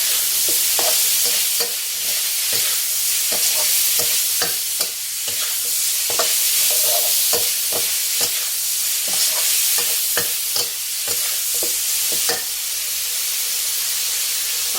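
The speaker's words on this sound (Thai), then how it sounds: "ผัดให้เข้ากัน" Long beans stir-fried with minced pork and soy sauce in a hot pan: a steady sizzling hiss broken by regular scraping strokes of a spatula, close and loud, with no talking.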